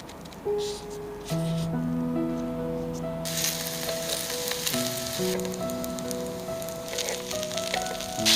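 Buns wrapped in dumpling skins pan-frying: a steady, bright sizzle swells up partway through and keeps going under sustained background music tones, with no talking.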